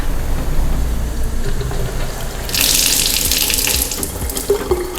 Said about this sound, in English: Then turn on the water.